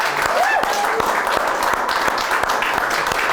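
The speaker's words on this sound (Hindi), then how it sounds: "राहगीर भाई का जोरदार तालियों के साथ स्वागत किया जाए" A crowd breaks into sustained, dense applause, with bright bird-like chirps or whistles sliding above it near the start.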